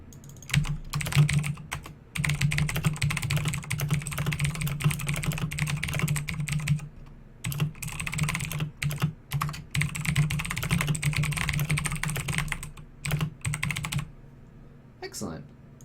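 Fast, continuous computer keyboard typing with scattered mouse clicks, close and clear, running in bursts with brief pauses over a low hum.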